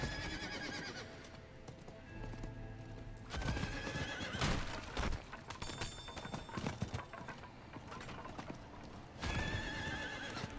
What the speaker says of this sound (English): Alright, horse, take me away.